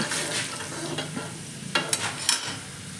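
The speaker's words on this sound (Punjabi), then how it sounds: "ਆਪਾਂ ਨੇ ਲਸਣ ਪਾਤਾ ਹੁਣ ਲਸਣ ਆਪਣਾ ਲਾਲ ਹੋ ਜੂਗਾ" Garlic frying in a pan while being stirred, a steady close sizzle broken by a few sharp scraping and stirring bursts toward the end.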